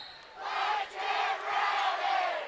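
Student fans at a high school basketball game cheer and chant in loud rhythmic waves, a packed crowd roaring in three swelling bursts.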